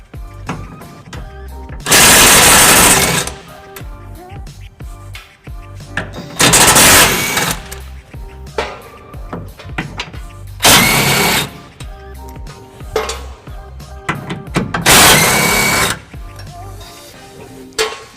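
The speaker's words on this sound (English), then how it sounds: "We'll be using our power tool right here to be taking those off." Impact wrench spinning off 17mm bolts at the front of a 2004 Nissan Titan, four loud whirring bursts of about a second each, spaced several seconds apart, with clanking and quieter work noise in between.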